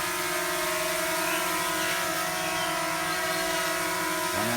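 A mini EX5 GPS drone with brushless motors hovering close by, a loud, steady high-pitched buzz with stable tonal whine that holds without a break throughout.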